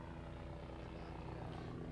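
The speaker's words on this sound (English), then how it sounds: "So you're looking for your helicopter?" A helicopter over the flood-hit mountain country of Swannanoa and Spruce Pine, western North Carolina, gives a steady low rotor drone at moderate distance, continuous and even throughout.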